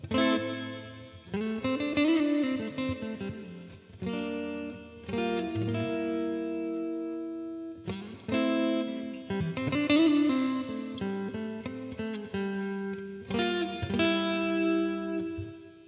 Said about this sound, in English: This is the reverb cranked all the way.